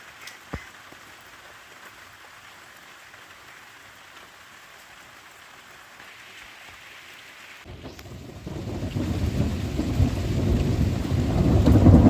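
Loud thunder rumbles in and builds with heavy rain hammering down during a long, nonstop downpour; a quiet, steady patter leads into a swelling roar of rain and thunder that grows louder to the end.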